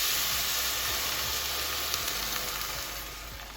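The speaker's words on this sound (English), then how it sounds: "And the final step is to just add water." Water poured into a hot pot of Turkish red lentil soup sets off a loud, steady sizzle and hiss of steam, broadband and continuous, fading slightly at the end.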